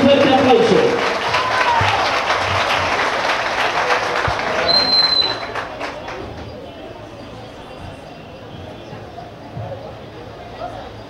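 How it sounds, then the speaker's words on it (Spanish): A room applauds at a press conference with mayoral candidates for Puerto Tejada. Loud, close clapping rolls for about five seconds, then thins to a quieter murmur of room noise and a few scattered claps. "Reciba con un fuerte aplauso."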